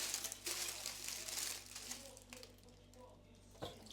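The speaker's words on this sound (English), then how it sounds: "plastic bag. Yeah, let's do that." A plastic bin bag crinkles and rustles in faint, irregular bursts close to the microphone, quiet handling sounds with soft crackles and brief pauses, set against a low steady hum.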